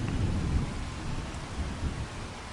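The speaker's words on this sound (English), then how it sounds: "The sound keeps changing from what sounds like proper rain sounds to" Rain falling in Farming Simulator 25 on PS5, a steady hiss of rainfall with low rumbling swells resembling distant thunder, no voices.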